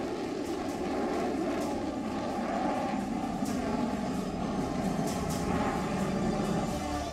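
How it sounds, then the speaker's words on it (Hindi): A Rafale fighter jet gives a continuous, loud engine roar with a humming, droning tone that holds steady from start to end. "ये हिंदुस्तान का नया वायुवीर है रफाल"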